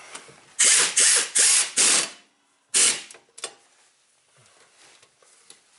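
Ratchet wrench tightening a rusty brake caliper bolt on a Subaru during hub assembly work: four quick loud ratcheting bursts, a pause, one more burst, then faint clicks and handling.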